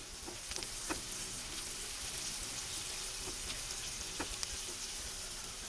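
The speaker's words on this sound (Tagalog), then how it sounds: "Igisa lang natin ng very, very light." Garlic and onions sautéing lightly in butter in a pan, a soft steady sizzle with a few faint clicks and scrapes throughout, no voices.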